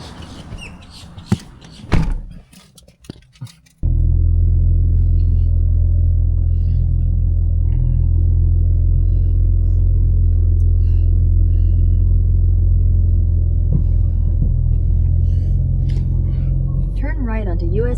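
Car on a highway near Savannah, a loud steady low engine and road rumble filling the cabin after a brief noisier start with door and handling sounds, speech heard early on and faint chirps near the end.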